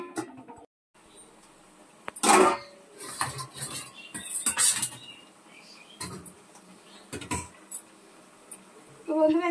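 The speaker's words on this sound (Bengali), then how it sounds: "এবার ঢাকা দিয়ে দেবো।" A lid goes onto a cooking pot of dal on the stove with a few sharp metallic clanks and scrapes among quiet kitchen noise, someone talking softly in between.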